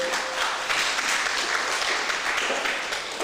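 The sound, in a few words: applause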